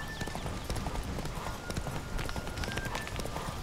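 Geralt's horse Roach gallops in The Witcher 3, rapid rhythmic hoofbeats drumming steadily and close, with faint game ambience behind and no talk.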